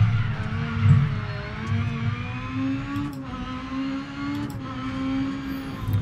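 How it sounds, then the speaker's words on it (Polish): Small, buzzy rally car engine in the Dirt Rally video game, holding a steady drone with gentle pitch shifts as it drives, fairly close and continuous with no talk. "silniczek to musi mieć chyba od kosiarki."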